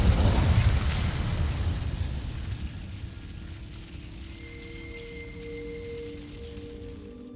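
An Incendio fire spell cast in Hogwarts Legacy: a loud burst of roaring flame that flares at once and then fades into a softer crackling rumble, with faint magical tones ringing underneath as it dies away.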